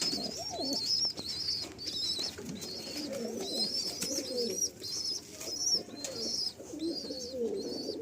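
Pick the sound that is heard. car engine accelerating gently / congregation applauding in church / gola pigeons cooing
gola pigeons cooing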